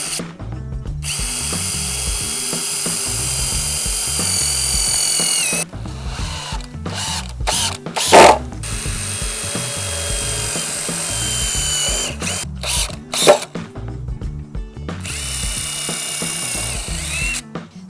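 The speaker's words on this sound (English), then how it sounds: "then I'm going to pre-drill the holes and put the screws in" Power drill pre-drilling holes and driving 1.5 to 1.75 inch outdoor screws into wooden planks for a raised garden bed, with long loud whirring bursts separated by short pauses and a few sharp clicks.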